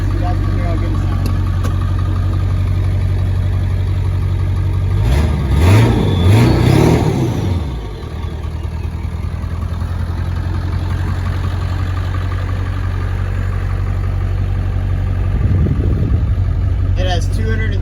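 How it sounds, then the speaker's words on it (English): A 2002 Ford F-250 pickup with a 7.3L Power Stroke diesel and 236,000 miles rumbles at idle, then revs up briefly and drops back, with a second shorter rev near the end, close and steady throughout. "I'll rev it up a little bit so you guys can hear how good it sounds."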